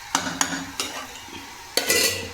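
Spiced curry is sautéed in a pan, with a few sharp scraping strokes of a utensil over a soft sizzle, the last stroke longer, all close and without voices.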